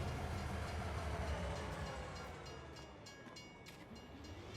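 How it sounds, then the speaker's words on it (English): A train rolling in from off the map in Farming Simulator 22, a steady low rumble of cars with faint rail clatter and a few high squeals toward the end, alone and fairly quiet. "Oh, train's coming in from off the map today."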